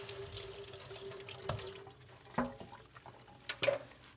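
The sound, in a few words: rinsing a grinding wheel under a water tap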